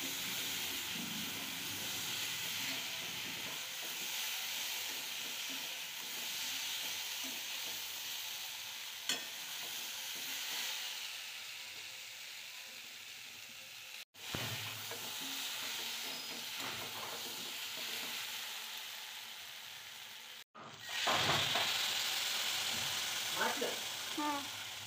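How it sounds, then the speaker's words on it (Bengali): Water is poured into frying potato and eggplant, setting off a steady hiss and sizzle with stirring scrapes. A sharp burst of louder sizzling comes late, heard up close. "এবার আমি অ্যাড করব জল।"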